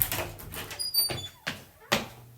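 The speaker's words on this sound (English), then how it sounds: "let's see what's behind this door" A door creaks open in a dark building at night, with a few sharp knocks and scrapes spaced across two seconds. Quiet voices speak around it.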